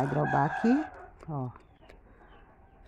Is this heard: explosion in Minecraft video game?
no